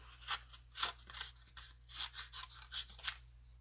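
Scissors snip through card or paper while a card and bookmark are made, a close run of short crisp cuts at an uneven pace over a faint low hum.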